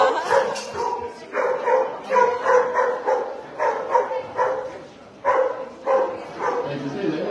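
Several dogs herding sheep bark and yip repeatedly outdoors, close by, in short overlapping bursts with brief pauses between them.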